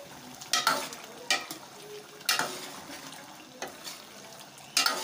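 Chicken karahi in the Peshawari Shinwari style is stirred in a wok over a continuous soft sizzle, with sharp scraping strokes about once a second, some louder than others.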